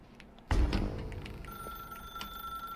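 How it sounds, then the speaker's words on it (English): Telephone ringing in the office game The Stanley Parable, a sudden bright electric ring that burst in and lingers with fading trills, heard alone. "Now pick up the phone"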